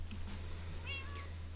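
A Minecraft cat meows twice in quick succession, close and clear, two rising-falling calls over a steady low hum of game background.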